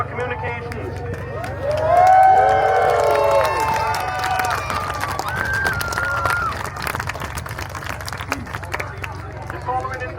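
An airshow crowd cheers for a parachute display team descending in formation at RAF Cosford, a broad wash of voices and cheers rising then settling beneath a commentator talking over the public address.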